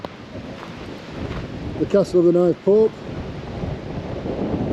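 Steady wind rumbles and buffets the microphone throughout on a hilltop at Châteauneuf-du-Pape, France, with a person speaking briefly over the gusty outdoor noise.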